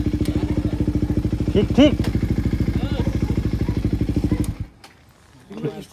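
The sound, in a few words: motorcycle during night ride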